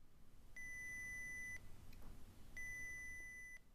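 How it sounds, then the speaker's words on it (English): Two steady electronic beeps at about 2000 Hz from a prototype water detector, each lasting around a second with a pause between, fairly faint over a low background hum. "I just tried to pick the most annoying beep noise I could, and that ended up being about 2000 hertz for this example"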